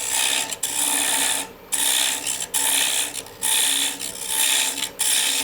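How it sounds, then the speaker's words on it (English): A wood lathe turns a hollow vessel while a tool cuts into the spinning wood, giving repeated bursts of loud raspy scraping separated by short pauses, close and without speech. "Turn the lathe on, and we're just going to start working our way back."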